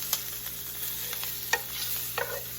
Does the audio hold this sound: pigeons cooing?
no